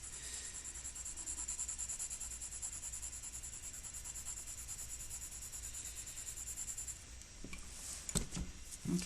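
Soft, steady scratching of a 2B graphite pencil shading on paper, a continuous close rub with layered strokes, ending in a few sharper taps and handling noises.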